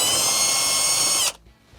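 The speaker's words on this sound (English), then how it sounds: "take a 1/4 inch nut driver and remove the 1/4 inch" Power nut driver backing out a 1/4 inch screw on a GE refrigerator's ice maker: a loud, steady high whir lasting over a second, then cutting off abruptly into quiet.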